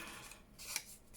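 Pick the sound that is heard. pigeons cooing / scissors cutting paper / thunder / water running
scissors cutting paper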